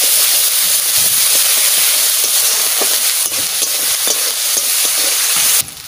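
Ground spice paste, added after a few onions, sizzles loudly in hot oil in a home kitchen, a steady bright frying hiss with scattered pops and stirring scrapes, close and continuous until it drops off at the very end.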